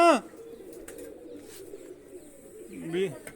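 Pigeons at a rooftop loft coo in a low sustained rolling call, with a sharper vocal burst at the start and again near the end, fairly close.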